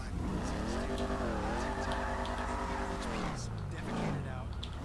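Dominator muscle car engine in GTA V, revving hard with a steady rising and falling roar, loud and close throughout, pitch sweeping up and down as it accelerates.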